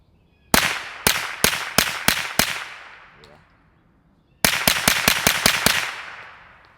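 A Retay RXP22 .22 pistol fired at tuna cans outdoors, with two quick strings of six sharp cracks each, loud and close, the second string faster.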